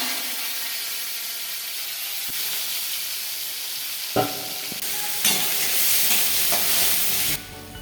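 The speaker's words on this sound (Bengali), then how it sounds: "উচ্ছেটাকে আমি একটুখানি ভেজে নেব।" Bitter gourd fries in a pan with a loud, steady sizzle and hiss that surges a few times as pieces are stirred, then drops back near the end; no talk.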